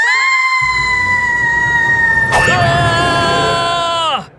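A high, sustained cartoon scream holds steady for about four seconds, gives a brief sharp jolt midway, then bends downward and cuts off. It sounds loud and close, layered with rumbling background noise.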